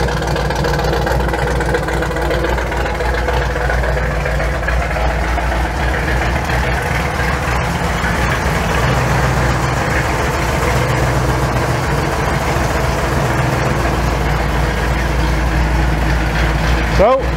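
A truck engine fitted with Holley Sniper EFI idles steadily and loudly up close, its low rumble wavering slightly as the idle hunts, with someone speaking over it at times.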